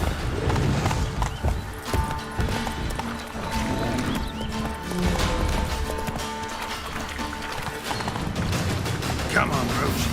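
Roach, the horse in The Witcher 3, gallops in a steady, fast clip-clop of hooves that lasts throughout, with a whinny and clattering gear, under occasional talk.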